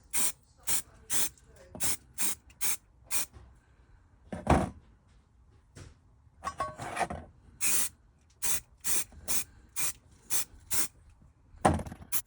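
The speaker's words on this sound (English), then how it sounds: "get these primed up, get some primer on them" Short spray-can bursts putting primer on small parts of a £5 Corgi diecast Batmobile being restored, about a dozen regular hisses with brief gaps, close and loud, with a few longer blasts.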